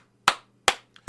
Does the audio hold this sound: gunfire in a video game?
no